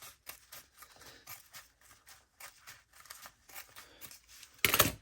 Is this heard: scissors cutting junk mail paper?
yes